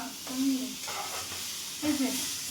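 Cauliflower and potatoes frying in a pan give a soft, steady sizzle, swelling in a couple of brief stirring bursts, heard close and fairly quiet.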